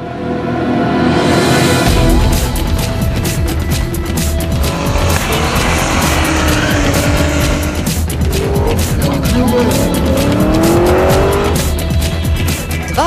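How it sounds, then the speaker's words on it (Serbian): Drift race cars at a charity event in Čačak scream across asphalt, engines revving hard while tires squeal and skid in long wailing sweeps, loud and close throughout. "Sportska i humanitarna drift trka u Čačku oborila je sve rekorde."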